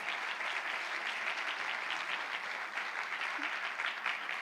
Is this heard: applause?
yes